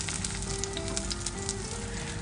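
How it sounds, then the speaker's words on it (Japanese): Garlic frying in hot sesame oil in a home kitchen, a steady close sizzle with small crackling pops throughout. "ごま油を熱して このさ、ニンニクからいい匂いがするまで炒めるよ"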